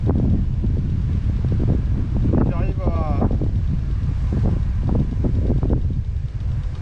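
Wind gusts across an open fishing spot by the water, a steady rushing roar with low buffeting, while someone speaks briefly over it.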